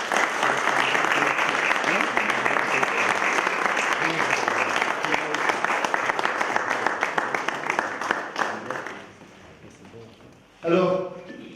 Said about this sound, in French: je voudrais vraiment qu'on les applaudisse